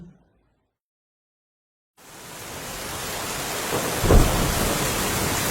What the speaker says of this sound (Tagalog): Ang lakas ng ulan, parang hindi pa titigil.